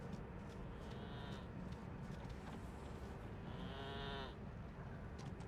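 Sheep in the Midra's Madness video game bleat twice, a shorter cry then a longer wavering one, faint over a dense rumbling background.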